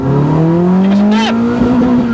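A cammed Citroen C2 rally tribute car revs hard and close, its engine note climbing steadily in pitch through a throaty, harmonic-rich sweep with a brief squealing whine mid-rev, loud and alone.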